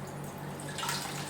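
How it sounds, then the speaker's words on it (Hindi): A bread slice dipped into water for a cheese roll, a soft brief splash and drip of liquid, close and faint, without talk. "पानी में अच्छे से डिप करके"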